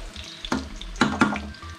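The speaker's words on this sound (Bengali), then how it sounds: "এদিকে যেমন ফুলকপি ভাজা হচ্ছে" Cauliflower frying in a pan, heard up close as a low bubbling sizzle broken by a few louder splashy bursts and clatters, likely from turning the pieces, with no talking.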